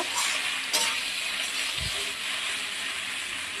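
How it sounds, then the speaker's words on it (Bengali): Boiled pasta frying with onion in a pan makes a steady moderate hiss, broken by a couple of sharp utensil knocks and a low thud, heard close with no talk. "পাস্তাগুলো দিয়ে দিয়েছি, এখন ভালো করে ভেজে নেব।"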